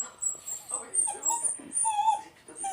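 A dog named Usco whimpering and crying at home, a run of high thin whines and squeaky yelps rising and falling close by, with soft breathy noises between them.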